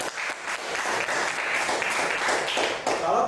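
An indoor audience at a product presentation breaks into applause, a dense, loud, close wash of clapping that holds steady for a few seconds without pause.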